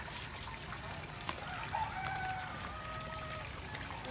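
Mountain water flows downhill in a steady, continuous trickle and wash, moderately close, with a few faint bird chirps over it.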